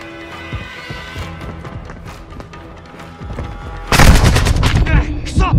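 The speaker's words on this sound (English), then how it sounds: "Taking heavy fire!" Gunfire in Call of Duty: Modern Warfare II, scattered shots under shouting voices that build into a dense, loud burst of rapid automatic fire and booms in the final seconds.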